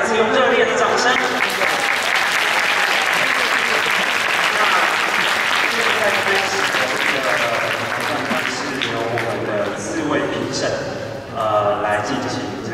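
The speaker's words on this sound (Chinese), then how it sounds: "请大家再一次用热烈的掌声" Warm, sustained applause fills a gymnasium after a school marching band and flag team performance, loud and continuous, gradually easing off, with a voice speaking over it.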